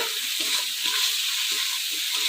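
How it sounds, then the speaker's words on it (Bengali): Ground chili and ginger paste frying in a pan with a steady, close sizzle and soft scraping stirs, no voices. "একটু ভাজে নেব মশলা দিয়ে একটু কষাবো হালকা"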